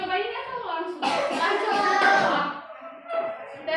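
Fourth-grade schoolchildren in a classroom doing a rhythmic group clapping exercise, a burst of many hands clapping together, mixed with children's voices chanting along.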